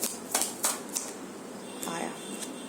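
Cards are shuffled up close in quick, crisp riffling bursts, several short flutters separated by brief pauses, with a soft voice underneath.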